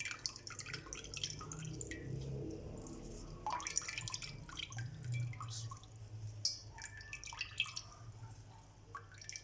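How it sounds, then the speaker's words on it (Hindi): Water drips and trickles from freshly made chenna as it is pressed by hand to drain it for Bengali rasgulla; soft, irregular droplets sound close by and faint. "अच्छे तरीके से इसे दबा दबा के इसमें से पानी निकाल लें"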